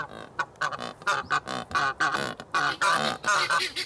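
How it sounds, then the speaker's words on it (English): Cape Barren geese call in a rapid series of harsh, grunting honks, close and clear, bursts clustered tightly over a few seconds with short gaps between. "the Cape Barren goose."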